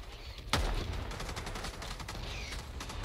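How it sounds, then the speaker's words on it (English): Gunfire in the video game Helldivers 2: one sharp loud shot followed by a dense, sustained crackle of continuous fire with faint distant rattles, no talking. "You shoot in a general direction."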